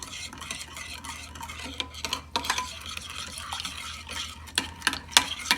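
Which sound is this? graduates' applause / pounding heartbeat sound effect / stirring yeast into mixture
stirring yeast into mixture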